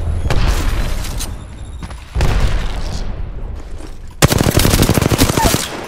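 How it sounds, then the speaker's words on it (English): Loud automatic weapon fire and heavy shots in the Apex Legends battle royale shooter, with sustained bursts of rapid gunfire, booming impacts and a dense volley near the end, close and dominant. "They're taking shots."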